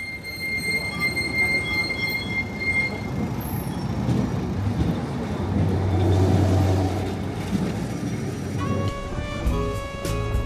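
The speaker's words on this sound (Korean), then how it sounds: "트램은 리스본의 가파른 언덕길을 따라 운행되는데요." An electric tram in Lisbon rumbles steadily along its rails up steep hills, with a continuous low mechanical drone and faint high squeals, rising slightly in the middle and ending with a brake hiss.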